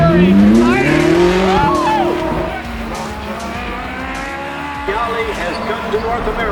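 Race cars roar past at Daytona International Speedway during a World Championship event, their loud engines sweeping up and down in pitch with a dense, continuous track din. A distant announcer-like voice is also present.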